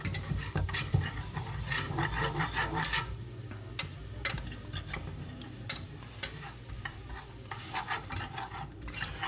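Butter sizzling in a pan as it melts for breakfast gravy, a soft crackling fizz with scraping stirs throughout, moderately quiet and without talk.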